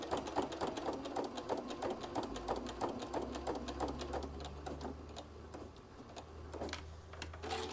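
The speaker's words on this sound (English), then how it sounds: "I'm going to do a couple stitches forward and a couple stitches back, and then try to stay in this stitch line" Sewing machine stitching a folded heart fabric case, running a few stitches forward then back, with a rapid, steady needle ticking close by that eases briefly mid-run before picking up again.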